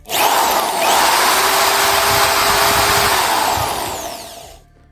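A Piranha 550W impact drill runs in plain drill mode steadily at high speed for several seconds, a loud continuous whine, then spins down near the end.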